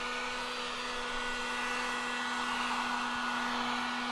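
A heat gun aimed at vinyl car wrap blows a steady, even whine with a constant hum, close and unbroken, with no talk.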